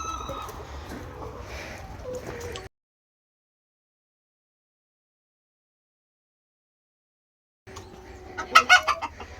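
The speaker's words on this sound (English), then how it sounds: "These are our new rescue hens." Rescue hens cluck close by, with a few soft calls at the start, a long silent gap, and then a louder burst of clucking near the end.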